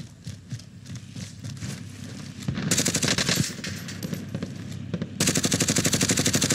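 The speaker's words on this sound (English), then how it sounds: "Oh, a different team is shooting the sniper." Sustained automatic gunfire in the battle-royale shooter Call of Duty: Warzone as another team fires on a sniper, starting moderate, then growing into loud, rapid bursts of rattling shots with brief pauses between.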